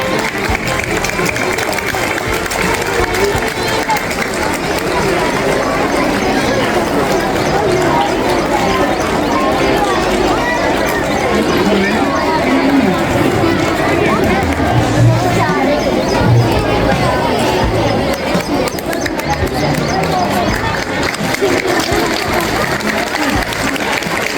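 Audience at a school felicitation ceremony applauding as guests walk onto the stage, a dense, continuous wash of clapping from a large crowd with chatter mixed in, steady and loud for the whole stretch.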